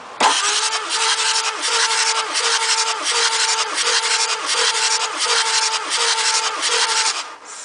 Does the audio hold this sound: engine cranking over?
yes